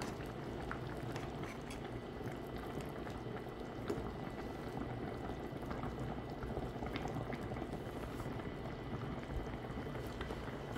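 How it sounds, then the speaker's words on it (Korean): A pot of kimchi tofu stew bubbling at a steady simmer, with constant small pops and gurgles, close up and fairly quiet. "보글보글"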